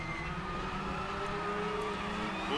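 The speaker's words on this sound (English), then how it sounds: "listen to those tires squeal." Race car tires squealing in a WTCR sim racing game at Slovakia Ring, a steady engine drone with sustained tonal squeal running loud and continuous throughout.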